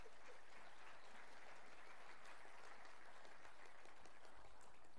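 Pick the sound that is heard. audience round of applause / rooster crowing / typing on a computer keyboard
audience round of applause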